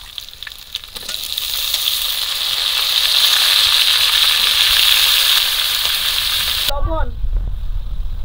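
Malabar spinach and chopped winter vegetables drop into hot pangas fish oil and sizzle loudly and steadily for several seconds. The sizzle cuts off abruptly, and a short voice follows.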